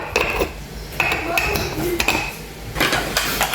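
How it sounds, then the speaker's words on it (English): A metal spoon clinks and scrapes against a pot while powdered milk is stirred into boiling water for a home cough remedy, with irregular knocks and swirling scrapes, close and fairly loud. "And just give it a good mix."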